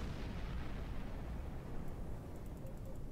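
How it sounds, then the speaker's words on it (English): A torpedo detonating against a starship in Star Trek Online, a deep rolling explosion rumble that holds steady and fades, with faint game beeps. "Once you damage the shields with these uh, beam arrays and then let that torpedo fly."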